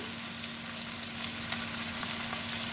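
Vegetables fried in a pan with turmeric, red chilli powder and sugar give a soft, continuous sizzle with faint stirring scrapes over a low steady hum.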